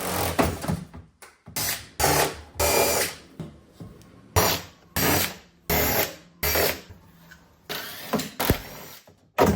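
Power tool, likely an impact driver or drill, removing a nut and bolt from a car trunk arm, firing in repeated short bursts of whirring rattle separated by brief pauses, loud and close, with no speech.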